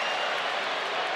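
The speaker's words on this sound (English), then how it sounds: "he got a nice round of applause" Steady wash of crowd applause at an Arsenal preseason friendly against Villarreal, dense and continuous clapping from a large stadium audience, heard from a distance with no clear individual voices.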